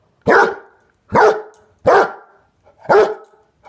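A basset hound barks four times in a steady, evenly spaced series during a game of fetch, each bark loud, close and full-bodied, with brief silences between.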